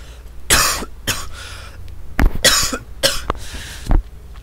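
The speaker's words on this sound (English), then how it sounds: "I did not think I would be plagued by coughs" A man casting a StarCraft 2 match coughs repeatedly, in several sharp, close bursts with short pauses between them and some throat clearing.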